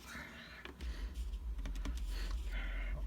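Calculator keys pressed one after another in an uneven sequence of soft, close taps while working an exponent problem, with steady low room hum underneath and no talking.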